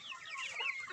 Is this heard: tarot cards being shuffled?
no